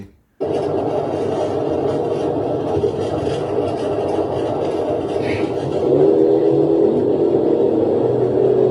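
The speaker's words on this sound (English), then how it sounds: "You can hear that engine roar." A Dodge Charger's heavy V8 engine roars steadily and loudly, with a deep low rumble that builds slightly in pitch partway through, and no voices.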